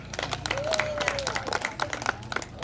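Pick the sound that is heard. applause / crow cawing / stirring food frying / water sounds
applause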